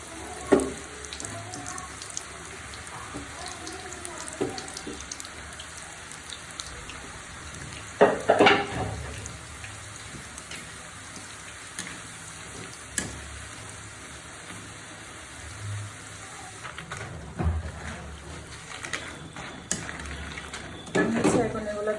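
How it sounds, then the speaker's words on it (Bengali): Small pieces of bread deep-frying in hot oil for chicken nachos, a steady soft sizzle and bubbling throughout, with a few louder crackling bursts near the middle and the end. "আমি এই রুটির টুকরোগুলো হচ্ছে এখন ভেজে নিচ্ছি ডুবো তেলে।"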